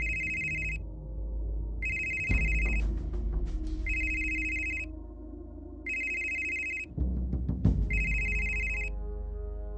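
A mobile phone rings in repeated electronic bursts, five evenly spaced rings with short gaps, loud and close, while heavier thuds and rattling noises intrude in places.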